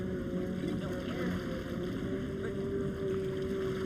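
Racing personal watercraft, including a Yamaha VXR, in a P1 AquaX race at Tampa, Florida, captured from an onboard camera: a continuous loud engine drone with rushing water and wind noise.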